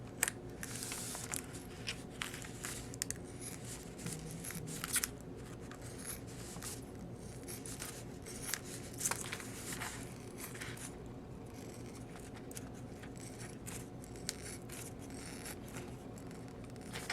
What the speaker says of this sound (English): trim around the edges, and the line of the rhinestone will kind of guide me to keep me straight